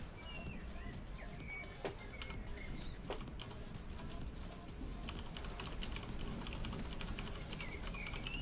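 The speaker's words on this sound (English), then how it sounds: "tapping the keyboard in the background" A computer keyboard is typed on steadily in the background, making quick, light, irregular clicks at low volume with faint room noise behind them.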